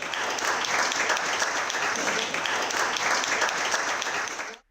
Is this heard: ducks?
no